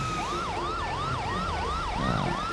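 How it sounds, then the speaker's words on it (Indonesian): Wailing police siren from a police car in the video game GTA 5, a steady rising-and-falling electronic wail sounding loud and continuous with no talk over it. "kita harus nyalakan sirine nih"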